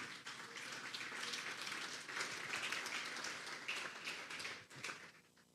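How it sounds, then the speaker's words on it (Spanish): A crowd applauding steadily at a Sunday church service, a dense wash of many hands clapping at even volume that thins out near the end. "Vamos a darle un fuerte aplauso al Señor esta tarde"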